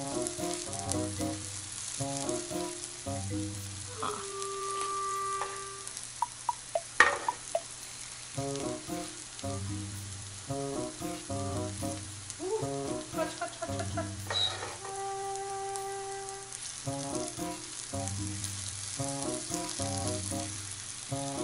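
Mashed potato patties frying in a little oil in a pan, a continuous close sizzle with occasional stirring and scraping, while faint background music plays.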